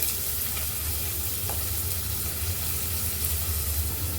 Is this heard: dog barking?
no